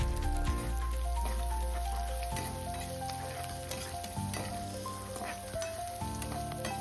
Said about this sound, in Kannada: ಈಗ ನೆಕ್ಸ್ಟ್ 1 ಈರುಳ್ಳಿನ ಸಣ್ಣದಾಗಿ ಕಟ್ ಮಾಡಿಬಿಟ್ಟು ಹಾಕ್ಕೊಂಡು ಫ್ರೈ ಮಾಡ್ಕೊಳ್ಳೋಣ